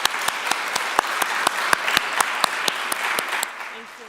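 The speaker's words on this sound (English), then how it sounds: "I invite you all to give a round of applause to our plenary speakers." Conference audience claps for the plenary speakers, a brisk burst of applause with sharp individual claps standing out, fading toward the end.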